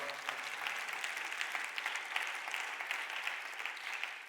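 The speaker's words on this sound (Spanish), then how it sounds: "Dile un aplauso fuerte al Señor." A church congregation applauds during a Spanish-language sermon, a dense steady roar of many hands clapping together for several seconds before fading slightly at the end.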